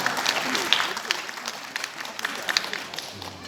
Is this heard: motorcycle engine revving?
no